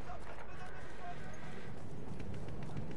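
Horse hooves clip-clopping at a run in the Battlefield 1 video game, a steady patter beneath game noise and a voice talking over it.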